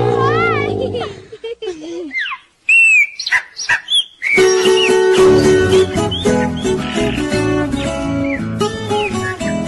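Whistled, chirping bird calls rise and fall, followed by dense music with more bird-like tweets layered over it.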